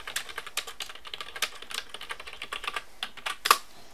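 A computer keyboard being typed on to write a Python code comment, with a steady run of close, crisp keystrokes over about four seconds and a sharper click near the end, no voices.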